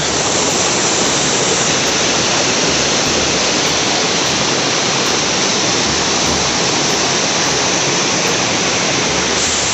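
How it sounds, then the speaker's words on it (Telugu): Rampa waterfall near Rampachodavaram, East Godavari, roars in a dense, continuous rush of falling water, loud and unbroken from start to finish. "ఇక్కడ చూస్తే కనుక వాటర్ ఫాల్ ఉంది"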